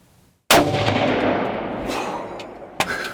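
A single loud rifle shot fired at a buck during a deer hunt, a sharp close blast with a long fading echo, followed by a fainter thump.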